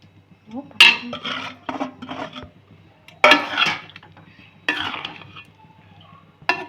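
Kothu parotta being stirred and tossed in a pan at home, with metal spatula scrapes and clinks arriving in several bursts, close and moderately loud, and a faint voice in the background.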